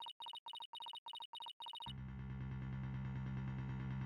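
A cell phone rings in the Apollo Justice: Ace Attorney video game: a rapid chirping ring tone repeats six quick times, then gives way to a loud, sustained electronic music bed.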